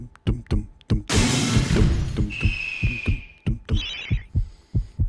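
A crystal demon's heart shatters in the video game MediEvil: a loud glassy crash bursts out and rings with a sustained tone, set against deep, evenly pulsing heartbeat thumps that run throughout.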